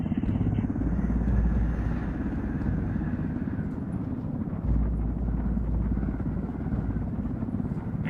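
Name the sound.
helicopter flying, from video game Ghost Recon Wildlands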